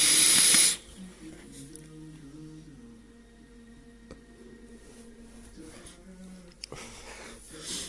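A Dovpo Topside dual-battery squonk vape mod fires with a loud, close burst of airy hiss at the start, followed by quieter hissing and breathy draws, with another hiss rising near the end.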